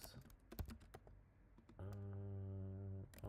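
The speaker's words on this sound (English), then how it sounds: "So I can just type here," Keystrokes patter on a computer keyboard as a prompt is typed, soft irregular clicks, then a steady tonal hum takes over for over a second before a few more clicks.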